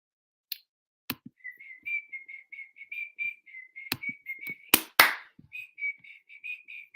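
A person whistles a quick, wavering tune in short repeated notes, close and fairly quiet, with a few sharp clicks and knocks scattered between the phrases.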